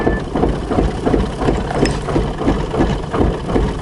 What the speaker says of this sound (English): this vehicle sounds like it's a diesel, and it's burning oil. It's almost like a runaway